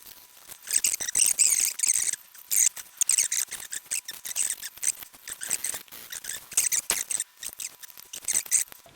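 Rapid back-and-forth strokes of 2500-grit sandpaper rub a steel part on a 1960/61 Futurama guitar by Selmer, close and crisp, coming in uneven bursts with short pauses between.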